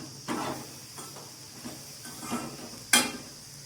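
Jaggery being stirred in a pan until it melts for a green gram kozhukattai filling: a few soft, scattered scraping strokes of a spoon against the pan, fairly quiet, ending in one sharper clink of metal.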